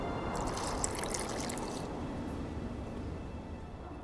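Water trickling and splashing into a mixture of burnt lime in The Witcher 2: Assassins of Kings video game, a faint, short liquid pour that fades into a soft, steady wash.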